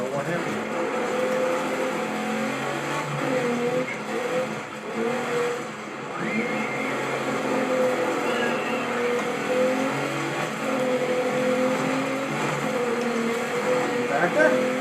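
Pro truck engine in the Dirt 3 racing game, raced in the rain, droning steadily and revving throughout while people talk over it.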